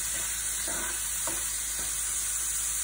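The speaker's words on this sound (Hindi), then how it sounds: "बस 1 से 2 मिनट इस दालों को हमें पकाना है।" Lentils fry in oil in a pan while being stirred for potato sabji, giving a faint steady sizzle with a few soft scraping stirs, close and quiet, with no talking.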